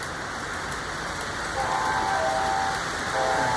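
Model train locomotives, an SD45 paired with an AC33, running together as a steady, even rumble and hiss, with faint thin whines layered on top.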